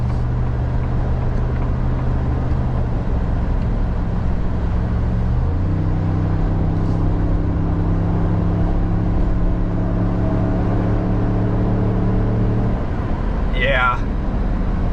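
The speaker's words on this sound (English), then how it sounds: "So I'm gonna give it wide open throttle now." Ford F-150 EcoBoost pickup with a 10-speed transmission, towing at wide open throttle up a 6% grade: a steady, loud, droning engine note that climbs in pitch partway through and holds, heard from inside the cab.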